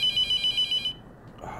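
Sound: phone ringing in The Mortuary Assistant video game

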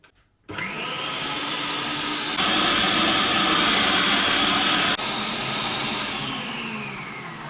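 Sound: electric meat grinder mincing vegetables

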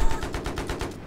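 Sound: gunfire in video game Battlefield 3

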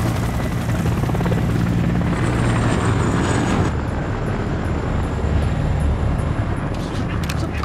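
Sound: helicopter flying overhead

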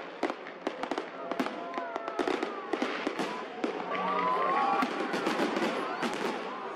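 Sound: fireworks salute at Victory Day celebration in park

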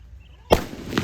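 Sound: firecracker bursting

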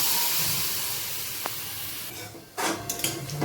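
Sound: dal with water poured into hot pan of frying vegetables

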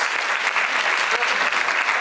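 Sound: convention audience applause

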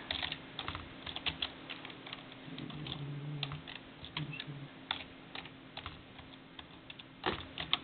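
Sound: typing on a computer keyboard

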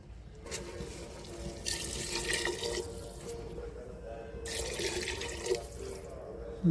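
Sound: water being poured into cooking pot

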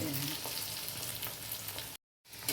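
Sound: chhana (cottage cheese) koftas frying in oil

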